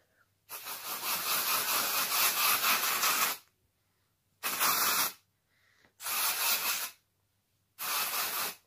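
Dry shampoo sprayed onto a synthetic Lullabellz Kendal wig: one long hissing burst of about three seconds, then three shorter one-second sprays separated by silence, close and loud.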